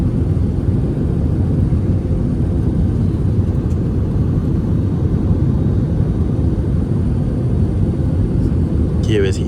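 Cabin of a British Airways airliner on approach to London Heathrow: a steady, loud low engine and airflow roar filling the space continuously, with a brief faint rattle near the end.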